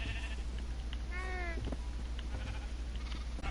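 A Minecraft sheep gives a single wavering bleat midway through, over a steady background hum of farm-game ambience.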